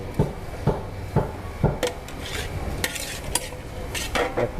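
Bamboo shoots and minced pork being stir-fried in a large pan for selling in bulk, with a spatula scraping and knocking the pan in a steady rhythm over a low sizzle, close and moderately loud.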